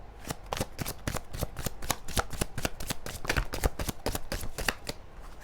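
Tarot cards are shuffled by hand at close range in a rapid run of crisp riffling slaps, each sharp and evenly spaced, continuing without pause throughout.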